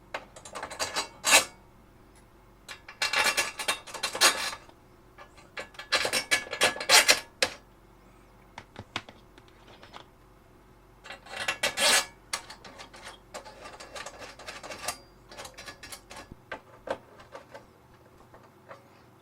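Long screws driven through a metal shield into the casing of a Keithley 220 programmable current source during repair, heard as bursts of close metallic scraping and ratcheting with pauses between them, no talking.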